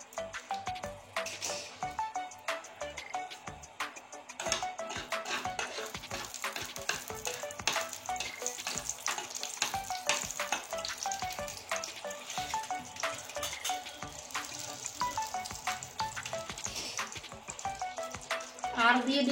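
A dried red chili fries in mustard oil, a close, continuous crackling sizzle broken by frequent small pops and stirring clicks, faintly louder toward the end.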